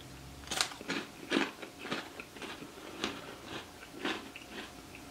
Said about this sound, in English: Now let's try the cracker by itself.